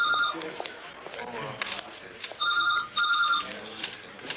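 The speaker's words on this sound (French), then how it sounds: "Ah, Mademoiselle Cantrell, on vous demande au téléphone." An electronic telephone bell rings in two bursts, warbling trills with a gap between, in an office setting, with muffled background voices and room noise underneath.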